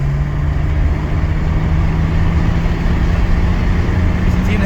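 A BMW E23 745i accelerating on the road, a steady, droning engine and road roar with a constant low hum, continuous and loud throughout with no clear rise in pitch.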